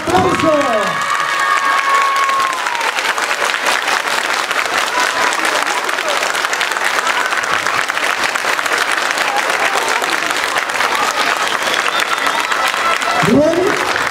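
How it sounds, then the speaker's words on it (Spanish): Loud, dense audience applause with cheering fills the whole stretch at the Mojiganga 2013 event in Tepalcingo, Morelos, with an announcer's voice heard faintly at the start and end. "Póngale el aplauso."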